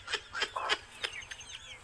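A brooding hen sitting on her eggs gives short, soft clucks and low chortling calls in a quick irregular series, close by and with no talk over them.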